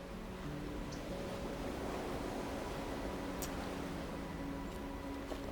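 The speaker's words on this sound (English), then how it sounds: "And we can hear the ocean." Steady ocean surf along the Carpinteria coast rolls as a continuous, even wash of noise at moderate distance, with faint brief chirps over it.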